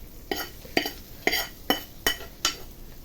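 A spoon scrapes and knocks through tamarind rice with tempering added, six evenly spaced stirring strokes ringing against the vessel, close and clear, with light sizzle under them.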